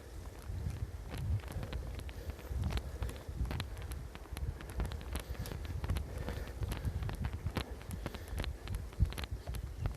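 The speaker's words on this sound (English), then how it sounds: "Today is a rather windy day" Gusty wind buffets the microphone outdoors in Leipzig on a blustery day after overnight rain, a steady low rumble broken by irregular thumps and crackles and no voices.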